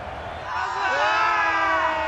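A raucous cricket crowd in Cricket 22 builds into a loud, rising roar of cheering and whoops, while a commentator's voice talks over it.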